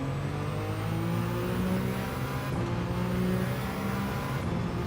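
Peugeot Gr.1 prototype race car engine in Gran Turismo 7, a steady loud droning whine held at high revs with a brief shift partway, heard close as if onboard.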